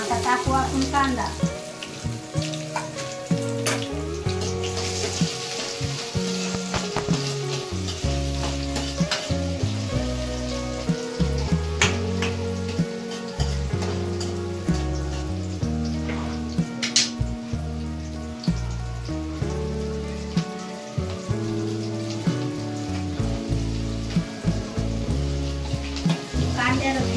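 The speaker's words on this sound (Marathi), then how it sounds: "आता टाकू आपण कांदा." Chopped onion sizzles loudly and continuously in hot oil in a pan, with stirring scrapes over a steady background of music.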